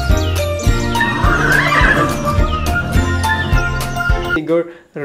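A horse neighs in a loud, close whinny that rises and then trails off, layered with chirpy bird-like tones and rhythmic clip-clop hoofbeats. It is used as a sound effect and ends with a brief drop into near silence.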